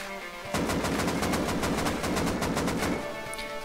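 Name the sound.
gunfire from weapons in the video game Rust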